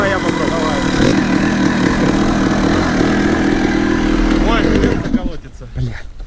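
A Honda CR 250 motorcycle engine runs loud and close, a dense steady drone that fades out at the end, with voices talking over it.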